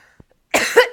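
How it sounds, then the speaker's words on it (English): A person coughs twice in quick succession, loud and close, after a faint tick and near silence. "Pardon my coughing."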